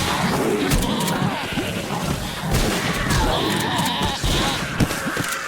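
Sheep bleating in the Perilous Hearts concept demo video game, several short cries rising over continuous game noise with occasional thuds, moderately loud and near.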